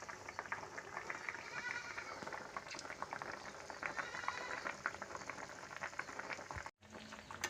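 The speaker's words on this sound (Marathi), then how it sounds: "आपण आता 15 मिनिटं याले चांगलं उकळी येऊ द्यायची आहे." Shengole, Maharashtrian dough dumplings, boil in water in a pot, giving a steady, dense bubbling and simmering that runs evenly throughout, with a brief dropout near the end.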